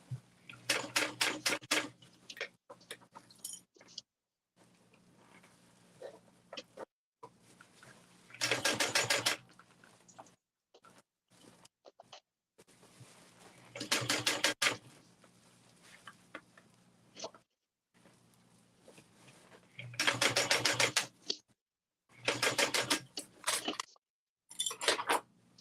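A sewing machine stitches a zip away tote bag in repeated loud runs of rapid mechanical clatter, separated by quiet pauses and small handling sounds, heard close with no talking.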